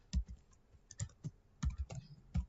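Code typed on a computer keyboard, close and quiet: irregular bursts of individual key clicks and soft thumps with short pauses between them, no voice present.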